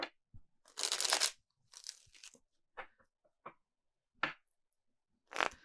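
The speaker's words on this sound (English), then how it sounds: "Give these a shuffle." Tarot cards being shuffled by hand, a series of soft, quiet crisp riffles and taps separated by short silences.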